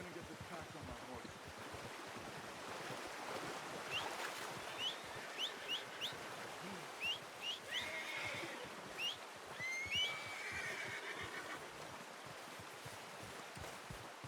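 Horse neighing and whinnying in Red Dead Redemption 2 after a hunt, several short bright calls spread across the clip over a steady outdoor ambience of flowing water and birds.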